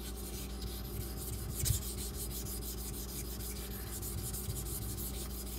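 A knife edge is worked on a sharpening stone with slurry while an edge is repaired, producing a steady, close scraping and rubbing sound with no speech.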